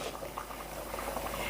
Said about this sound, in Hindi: पानी को बॉईल आ गया है।